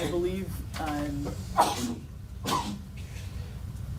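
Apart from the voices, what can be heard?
sneeze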